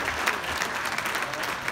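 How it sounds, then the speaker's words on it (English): An audience at a charity dinner claps steadily in a dense, even burst of applause throughout, with no voices standing out. "So please give yourselves a round of applause."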